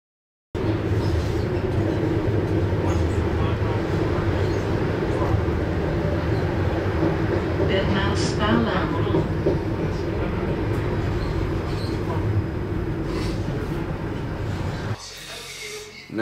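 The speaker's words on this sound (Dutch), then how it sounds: "momenteel zijn we op de trein richting Brussel-Zuid" A passenger train heading for Brussels-South carries a steady interior rumble and rolling rail noise for most of the ride, with a faint clatter around the middle and the level dropping near the end.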